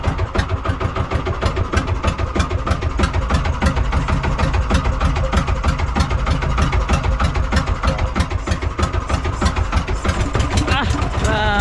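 A boat's diesel engine, one of two on a fishing boat in Palawan, running with a loud, close, rapid knocking rhythm that stays steady throughout, with a brief higher sound near the end.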